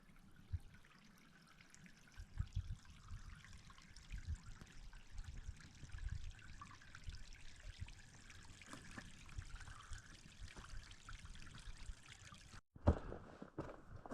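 Icy spring water trickles steadily from a stone-walled spring set among rocky cliffs in a gorge, a soft continuous dribble heard up close with no voices.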